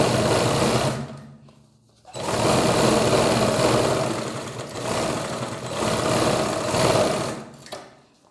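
Sewing machine stitching along the edge of a kurti collar neckline, loud and close, running in a long continuous whir, pausing briefly, then running again for several seconds before slowing.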